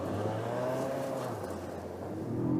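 A 2022 Acura MDX A-Spec with a 3.5-liter VTEC V6 rising in revs, a steady close engine drone whose pitch sweeps upward and then settles, heard alone with no talking, during winter driving.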